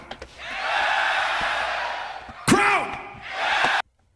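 Spectators at a Grand Beatbox Battle 2024 loopstation event roar and cheer together in a loud sustained swell, broken by a sharp shouted whoop before the noise rises again and cuts off abruptly.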